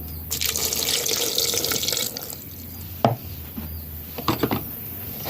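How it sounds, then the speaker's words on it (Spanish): Water runs steadily for about two seconds into a blender jar, then stops, followed by a few close knocks and clatters of the container. "Le voy a agregar agua."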